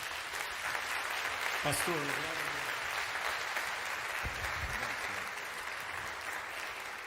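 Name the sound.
congregation applauding in church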